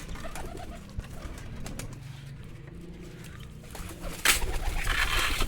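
Soft pigeon coos and wing flutters in a close, busy setting where caught male pigeons are gathered together, with a sudden louder rustle near the end.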